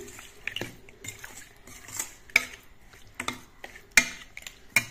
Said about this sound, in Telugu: నిమ్మరసం వేసిన తర్వాత బాగా కలుపుకొని